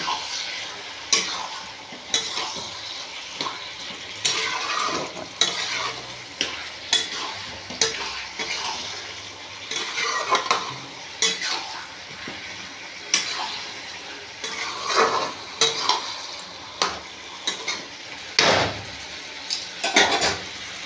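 Cauliflower curry frying in a pan, stirred with a utensil that scrapes and clinks against the metal at an irregular rhythm over a steady close sizzle, continuous throughout with no talking.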